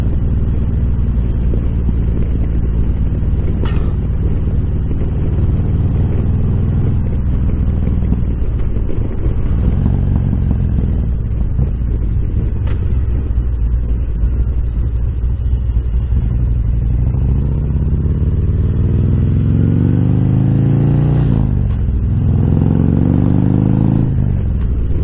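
A Harley-Davidson Road Glide motorcycle engine running on a road, a loud continuous low rumble with throttle swells and shifting pitch, close and steady for the whole stretch, no voices.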